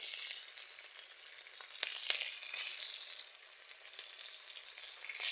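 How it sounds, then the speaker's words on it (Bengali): Ginger garlic paste and onion fry together in a pan over a village stove, giving a soft, steady sizzle with a few light clicks of stirring. The sound is quiet and close, with no voices. "আদা রসুন বাটা পেঁয়াজ সব একসঙ্গে ভেজে নিচ্ছি।"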